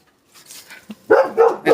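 A dog barks nearby in a backyard garden: a few soft huffs followed by two or three sharp, loud barks in quick succession, heard alone without talking.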